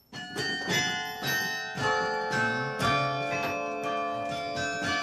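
Carillon bells in a belfry in Bergues ring out in a steady, overlapping sequence, rich and sustained with long resonant tails, playing a melodic pattern loud and close.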